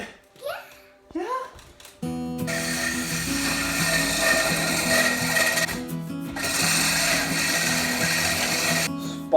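A Spyder hole saw on a power drill cuts holes for can lights in a farmhouse ceiling during renovation, a loud grinding whir running steadily for several seconds after brief voices and knocks, with a short pause midway.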